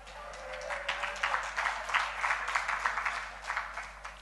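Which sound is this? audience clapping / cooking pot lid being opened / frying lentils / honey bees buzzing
audience clapping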